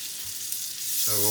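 Butter sizzles in a frying pan ahead of mushrooms, a soft crackling hiss that swells louder toward the end, close by and with no talk over it.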